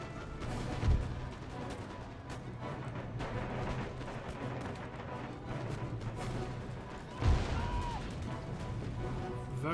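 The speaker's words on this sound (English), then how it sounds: "Very danger close canister shot there" Empire: Total War battle with booming canister-shot artillery, two heavy blasts standing out over a constant din of musketry and battlefield noise, while a voice talks faintly underneath.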